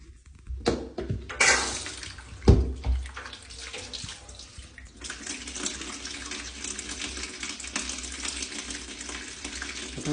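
Water runs from a shower on the middle floor of a house, a steady broad hiss after a few knocks and splashes, fairly loud and close with no talk.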